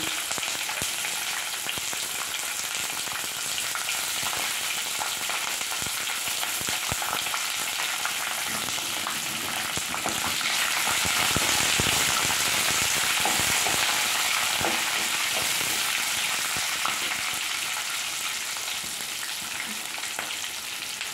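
Mustard seeds, chana dal, peanuts and curry leaves fry in hot oil for a semiya carrot potato upma, giving a steady, close sizzle with crackling pops throughout, swelling briefly louder midway, with no talking.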